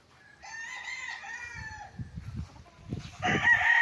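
At a farm lot with chicken coops in Liliw, Laguna, a rooster crows one long call, followed by bursts of clucking from nearby hens.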